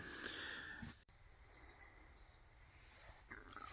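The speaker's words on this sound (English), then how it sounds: "can you hear the cricket going off?" After a brief rustle, a cricket chirps in a steady rhythm, four short trills spaced evenly, faint against a quiet background.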